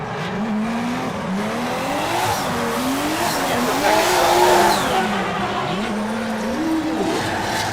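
A drift car skidding through a competition run at the Southeast Asia Drift Series round in the Philippines, engine revving up and down in wavering pitch under continuous tire squeal, loud and close throughout.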